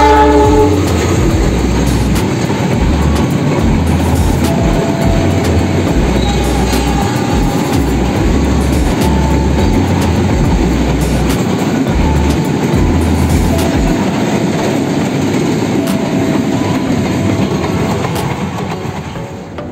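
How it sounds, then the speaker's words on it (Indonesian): A loud freight train rolls through a station on the middle track in Indonesia, up close, wheels rumbling and clattering steadily on the rails for the whole stretch, easing off slightly at the end. "kita saksikan ini lewat jalur tengah langsung ya guys kereta api barang ini ya"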